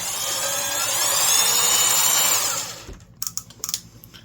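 A Vevor 20V brushless compact cordless band saw runs with a loud, rising whine that winds down after about two and a half seconds, followed by a few sharp clicks and clunks.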